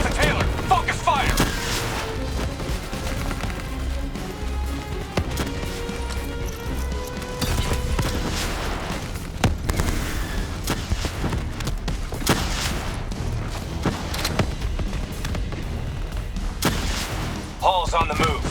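Heavy, continuous gunfire in a Call of Duty: Black Ops 3 combat mission, loud automatic bursts and impacts throughout, layered with game voices and battle noise.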